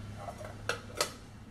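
A lid goes onto a cooking pot of cassava, two quick light metallic clinks close by in a quiet kitchen.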